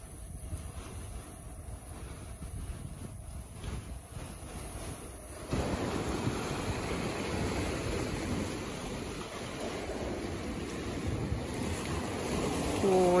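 Winter sea waves roll in at Gelendzhik on the Black Sea coast in December as a constant rushing surge that grows louder partway through, mixed with wind noise, without any talk.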